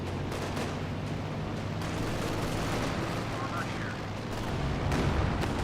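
Rocket barrage in the Company of Heroes 2 real-time strategy game, a dense, continuous rumble of launches and blasts under a commentator's voice throughout, swelling slightly near the end.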